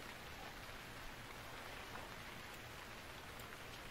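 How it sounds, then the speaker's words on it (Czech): Steady rain pours in the survival game Stranded Deep, a dense, unbroken hiss that fills the whole stretch evenly, with no voices. "ono prší, zase snížená viditelnost"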